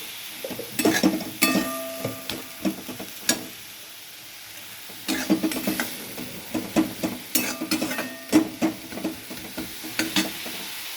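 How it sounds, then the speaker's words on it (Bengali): Spices fry over a medium flame for pomfret curry while a spatula stirs and clinks against the pan in uneven bursts, a gentle sizzle running beneath the scraping and a brief quieter pause midway. "মিডিয়াম ফ্লেমে মশলাগুলো ভেজে নেব"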